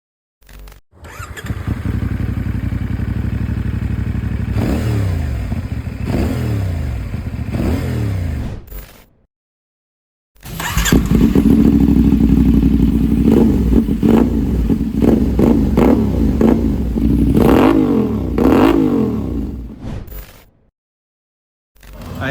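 A 450NK motorcycle fitted with an SC Project slip-on exhaust, revved hard and close in two long bursts with repeated rising and falling throttle blips, separated by a brief silence.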